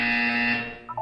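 A steady electronic buzzer tone from the Portal 2 video game sounds loud and sustained, then cuts off, followed by a couple of short blips.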